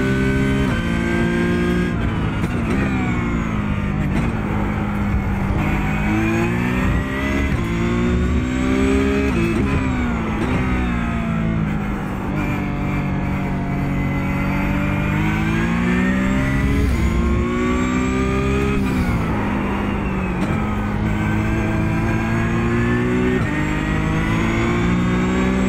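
A Porsche 911 GT3 (992) racing around the Hungaroring in iRacing: the flat-six engine screams continuously, rising through the revs, dipping briefly on upshifts and lifts, then climbing again in a loud, unbroken run.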